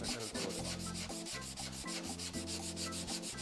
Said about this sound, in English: You keep sanding until you like best.